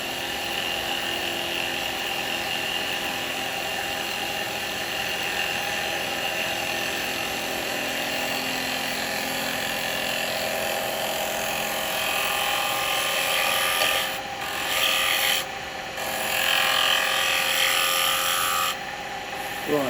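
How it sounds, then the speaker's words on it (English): A wood lathe spins wet wood for a miniature cowboy hat while a tool takes a shaving cut, giving a continuous high whine with steady broadband hiss, close and loud, briefly dropping out near the end. "Clean the wood off of that and get a nice little shaving cut."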